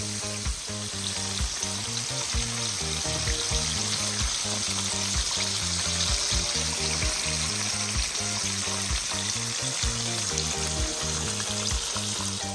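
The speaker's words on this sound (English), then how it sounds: "continue to fry for a few more minutes" Jamaican chicken fries in hot oil, a steady close sizzle with a faint rhythmic thumping underneath, continuous and unbroken with no talking.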